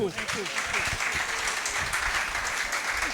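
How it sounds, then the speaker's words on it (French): Loud, sustained audience applause at a national press week closing ceremony honouring the best school newspaper, with a voice speaking over the start. "On applaudit le meilleur journal d'école"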